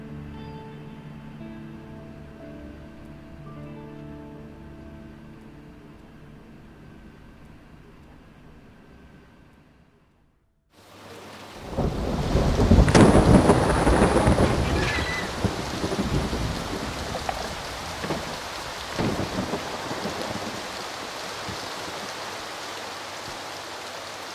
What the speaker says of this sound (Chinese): 这么大雨，你手还伤着，你在家等我吧